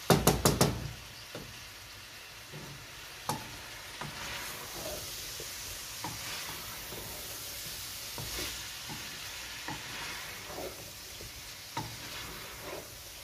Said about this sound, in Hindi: अभी हम इसमें बॉयल की हुई सब्ज़ी ऐड करेंगे। अभी इसको मिक्स कर लेते हैं।